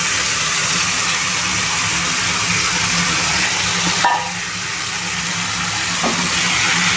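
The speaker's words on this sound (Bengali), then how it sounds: "আমার কড়া অলরেডি গরম আছে মাংসটা দিয়ে দিলাম" Marinated meat sizzles loudly in an already hot karai, a dense, steady hiss of frying that stays close and constant throughout, dipping briefly halfway as the food shifts in the pan.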